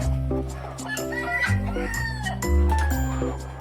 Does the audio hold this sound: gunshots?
no